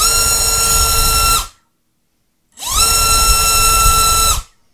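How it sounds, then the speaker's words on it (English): Hyperlite FPV race motor spinning a Dowel TJ5045 triprop, heard as two loud, steady high-pitched whining bursts of about 1.5 seconds each, cut by a clean silent gap and ending abruptly. "Spinning a Dowel TJ5045 triprop."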